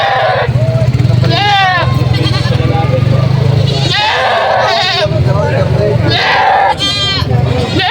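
Goats for sale bleat repeatedly, loud and close, with wavering cries cutting over a busy background of talking voices and a running engine.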